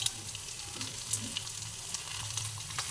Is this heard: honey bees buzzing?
no